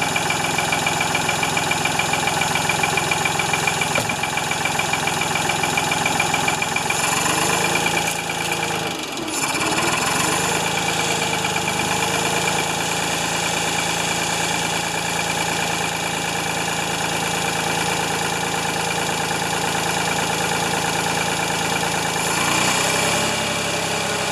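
A Ford 2600 tractor engine runs steadily after a fuel system overhaul, a loud, even idle with a constant low rumble and vibration and a slight dip partway through, no voices.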